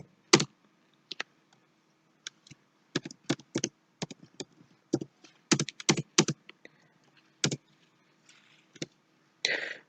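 Keys clack on a computer keyboard while data is entered into accounting software, crisp separate presses in irregular bursts and single taps with short quiet gaps, close and clear with no talking.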